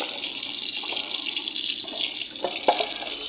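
Tap water runs steadily over an LG washing machine filter being washed at a sink, a continuous close splashing stream with brief changes as the filter moves under the flow.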